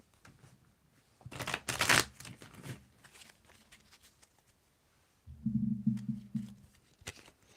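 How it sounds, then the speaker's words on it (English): Tarot cards shuffled by hand give a short burst of rapid riffling and patter, then quieter handling and a later low hum. The sound is close and fairly soft. "So, Kat, I want you to be here with me to tell me about shuffling and so forth."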